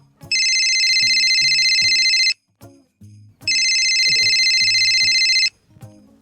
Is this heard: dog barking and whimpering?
no